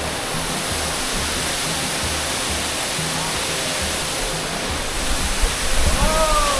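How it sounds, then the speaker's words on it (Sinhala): A waterfall at Mandaram Nuwara, swollen after rain, pours in a steady, loud broadband roar close by, with a few faint tonal sounds and louder splashing near the end. "මෙතන මේ ඇල්ල වැටෙන තැන"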